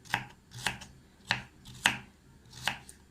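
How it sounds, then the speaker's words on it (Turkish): A knife chops sharply through a carrot on a cutting board, slicing it thinly in about six crisp, separate strikes at an uneven pace, close and fairly quiet. "bir tane havucu bu şekilde ince ince doğruyorum"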